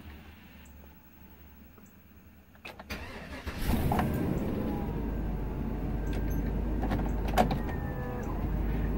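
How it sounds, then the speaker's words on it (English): Quiet background hum gives way to a sudden mechanical whir as an RV's hydraulic pump kicks on and keeps running steadily, with a few clicks and knocks. "You can hear the hydraulic pump kick on."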